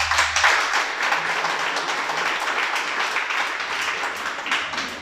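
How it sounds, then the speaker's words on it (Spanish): An audience at a Torah teaching gathering breaks into sustained applause, a thick wash of many hands clapping at once that holds steady from start to finish, close and fairly loud. "Un aplauso al Creador."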